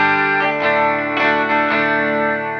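An electric guitar with a Rock and Roll Relics Chinese Rocks Johnny Thunders model plays through a UA Lion amp pedal on a clean setting, a few strummed chords ringing out with slight grit, close and sustained with no talking.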